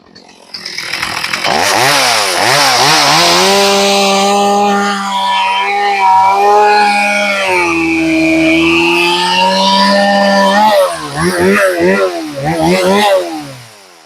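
A chainsaw running a hand-repaired Pico chain cuts into a black locust hardwood limb. It revs up loud and close, drops into a long steady bogging cut, then rises and falls in several sharp revving bursts near the end, with no talk.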